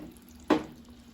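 A single short splash as a spoonful of hot candy-apple syrup is dropped into a glass of cold water, one brief close plop and fizz in an otherwise quiet kitchen.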